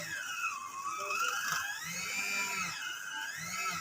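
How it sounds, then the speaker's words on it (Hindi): An electric beater whips homemade ice cream close by, its whining motor steady but rising and falling in pitch as the thickening mixture loads the blades. "और तो एक बार हम इसको दोबारा बीटर कर लेंगे"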